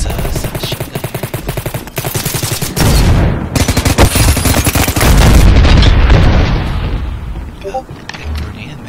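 Submachine gun fire in the Ballistic Overkill shooter game, rapid close bursts of shots in quick rhythm, then heavier booms and sustained firing, with someone talking over the gunfire.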